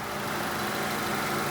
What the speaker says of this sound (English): the engine runs nice and smooth